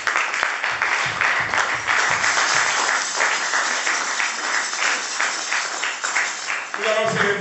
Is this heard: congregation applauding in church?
yes